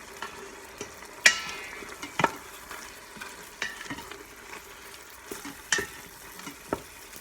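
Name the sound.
stirring ground beef frying in Instant Pot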